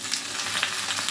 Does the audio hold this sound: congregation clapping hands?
no